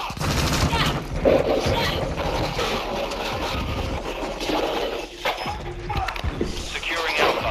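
Dense bursts of automatic gunfire and single shots crackle through a Call of Duty: Modern Warfare 2 multiplayer match, loud and nearly continuous, with game radio voices talking underneath.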